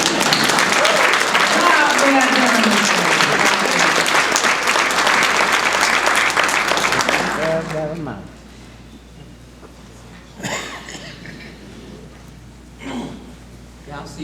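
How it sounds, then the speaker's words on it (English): Audience at a school district retirement celebration applauding loudly for several seconds, then the clapping stops and a speaker talks over a quiet room with occasional scattered claps. "applause."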